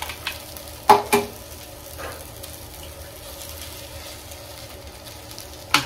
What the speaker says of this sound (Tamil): இப்போ முட்டையை உடச்சி ஊற்ற போகிறோம்.